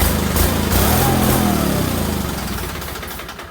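A Sears SS16 garden tractor engine runs hard at full throttle, a loud, close, steady mid-pitched roar that holds, then slowly fades slightly toward the end, with no voices.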